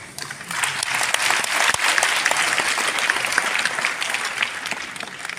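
Sustained audience applause fills a hall during a network marketing leadership seminar in India, a dense, steady patter of many hands clapping at even loudness throughout.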